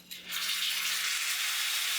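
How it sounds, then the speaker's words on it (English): Steak hits a skillet heated to 500 degrees and erupts into a loud, steady sizzle that rises quickly and holds strong and hissing, close up. "If your skillet doesn't make that sound when you put your steak in, it's not high enough."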